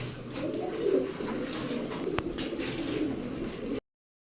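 Pigeons in a rose pigeon loft coo softly and repeatedly over a steady background murmur, low rolling calls near and far, with a single sharp click partway through before the sound cuts off.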